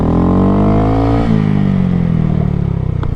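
A motorcycle performing a stoppie in a parking lot, its engine loud and close with a falling pitch as it slows hard, then settling into a rough idle.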